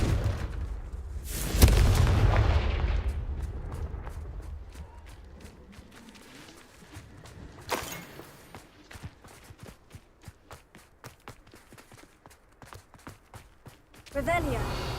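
A Confringo explosion spell in Hogwarts Legacy lets out a loud boom with a rumbling burst early on, followed by a second smaller blast, then a series of quick footstep-like thuds and clicks beneath faint background sound.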